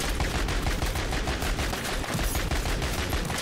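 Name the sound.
JAK Gunslinger firing in Modern Warfare 3 Zombies video game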